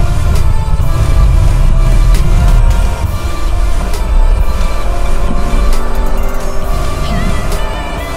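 Loud, continuous engine roar from a 2015 Yamaha R1 motorcycle under hard braking, a dense, steady rumble with shifting engine tones filling the whole stretch, with no voices over it.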